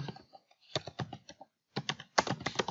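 Computer keyboard keys clicking in quick bursts while text is typed into an Excel spreadsheet, with an Enter keypress among them; close, crisp taps separated by short pauses.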